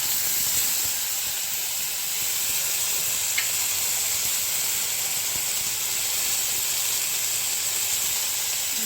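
Potatoes sizzle and hiss steadily in a hot pan alongside fried neem leaves, a loud, continuous frying crackle with no talk over it.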